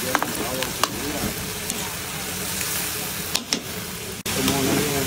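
Dinuguan, a Filipino pork blood stew, sizzling and frying in a pan, a steady close crackle with brief stirring knocks and a sharp clack near the end.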